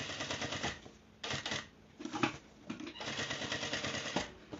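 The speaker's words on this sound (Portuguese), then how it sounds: "Então, vou costurar aqui, depois eu vou cortar." A sewing machine stitches a double-zipper pencil case in several bursts of rapid, close mechanical clatter with short pauses between runs.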